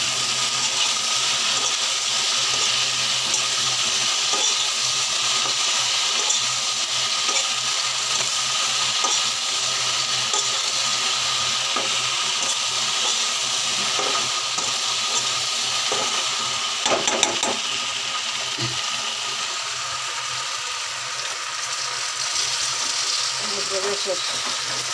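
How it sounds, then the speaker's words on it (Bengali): Okra fries in a pan with onion, green chili, turmeric and salt, giving a constant bright sizzling hiss throughout, with occasional soft clatters from stirring. "আমার ভেন্ডি ভাজা হয়ে গেছে"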